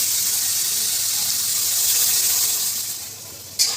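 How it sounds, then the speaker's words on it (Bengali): Milk poured into a pan for a Bengali coconut sweet (tat kheer er naru), a steady close liquid gush that runs evenly, eases slightly near the end and stops with a small clink. "দুধ দিয়ে দিচ্ছি"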